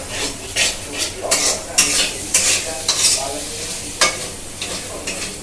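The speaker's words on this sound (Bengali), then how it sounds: "সুন্দর করে মিশিয়ে নেবো মশলাটা" A spiced potato filling for samosas, splashed with a little water, is stirred and frying in a pan: repeated loud scraping strokes of a utensil against metal over a constant sizzle, close and rhythmic, with no talk.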